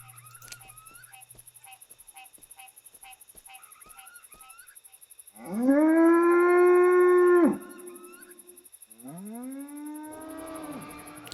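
Low, drawn-out honking calls of dinosaurs that sound like cows in the video game Jurassic Park Hunter Legends: one long loud bellow mid-clip, then a second rising call, after a series of short chirps.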